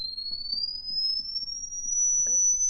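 A pure test tone rising slowly in pitch, played through the speaker of a 1937 Silvertone Model 4486 console radio, steady and clear, with faint low hum and a few soft taps beneath it.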